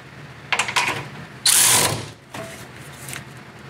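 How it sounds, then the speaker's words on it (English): A ratchet wrench tightening the nut on a shock mount of a 2003-2006 Chevy SSR, close clicking in short bursts, with one long loud run of ratcheting in the middle and quieter clicks afterward. "now I'm going to go ahead and tighten the nut on the shock mount."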